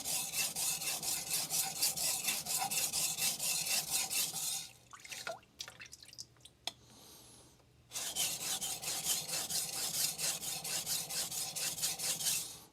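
A Shirogami 2 steel nakiri knife is ground on a Shapton Glass 500 whetstone, producing steady, close rhythmic rasping strokes that pause briefly in the middle, then resume at the same even pace.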